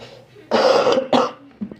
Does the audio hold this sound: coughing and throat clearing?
yes